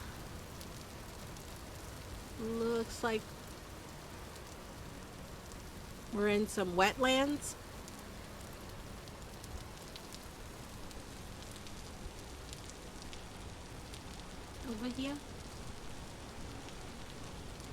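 Steady rain falls throughout in the survival game Vintage Story, a soft even wash of patter while someone talks briefly over it a few times.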